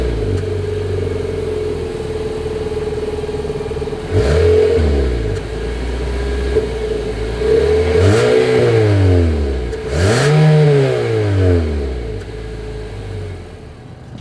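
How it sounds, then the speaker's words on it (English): 2022 Nissan Altima exhaust idles at a steady rumble, then climbs through three loud revs that rise and fall back to idle, recorded close with no talking. "here is that exhaust clip"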